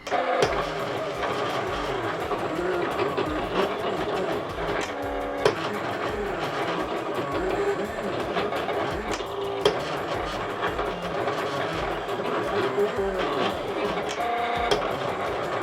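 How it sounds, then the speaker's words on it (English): A steady mechanical whirring and clicking of a sticker cutting machine cutting stickers, running continuously at a constant level with occasional sharper clicks. "here's just a small clip of how the machine sounds when it's cutting our stickers"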